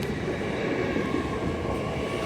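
An LNER Azuma service from London King's Cross to Inverness, unit 800-108, pulls into York station on the East Coast Main Line. The train's deep, steady rumble and rolling roar fill the platform with no talk.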